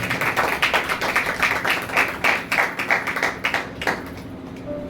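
A church congregation gives rhythmic applause during a Father's Day sermon, with fairly loud, regular claps that fade out near the end.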